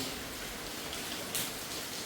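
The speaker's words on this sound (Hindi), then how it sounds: "बहुत ही तेज बारिश हो गई और एकदम से आई है" Sudden heavy rain pouring down outdoors, a dense continuous hiss of drops hitting surfaces with a brief louder splash near the middle, steady and moderately quiet, no voices.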